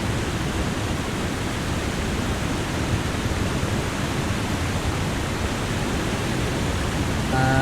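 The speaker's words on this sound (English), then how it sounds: "Oh man, this waterfall is so loud," A loud waterfall in The Long Dark roars as a dense, unbroken rush of water, close and constant for the whole stretch.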